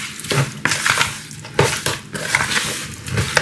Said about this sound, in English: Then mix everything, just mix everything together like this.